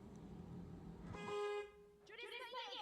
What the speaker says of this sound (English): she uses a horn honk